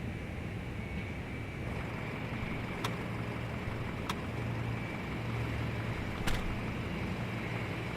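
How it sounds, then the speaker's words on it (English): Doors of a fuel truck in Microsoft Flight Simulator bang shut in three sharp, separate clacks, spaced a second or more apart over a steady engine and ramp hum. "you can hear the doors of the truck"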